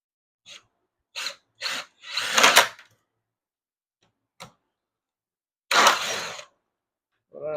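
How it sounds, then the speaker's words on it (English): Power drill pre-drilling a pilot hole in cedar for a long screw on a raised sand box, heard as several short separate whirring bursts with brief pauses between, fairly close and with no talk. "Pre-drill it."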